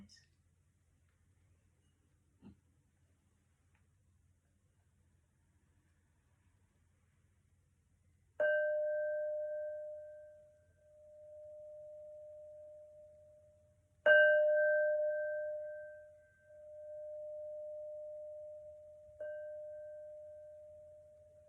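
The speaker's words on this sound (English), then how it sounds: "going to finish the meditation with 3 gongs" Three resonant gong strikes close a meditation, each hitting at full loudness and ringing out in a long sustained hum that fades before the next, spaced about six seconds apart in a quiet room.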